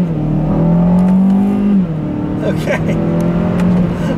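A 2018 Hyundai Elantra Sport with a dual-clutch gearbox accelerates under manual shifting, the engine note rising, dropping at a quick gearchange and climbing again from inside the cabin, with a brief spoken word.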